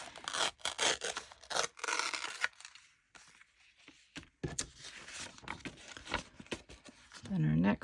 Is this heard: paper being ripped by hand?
yes